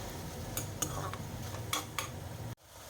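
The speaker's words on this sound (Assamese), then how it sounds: "এইখিনি ভালদৰে এতিয়া মই লৰাই লম" A spoon scrapes and clinks as taro (kochu) is stirred with khar in a cooking pot, a soft sizzle running underneath with several distinct taps, close by and without talk.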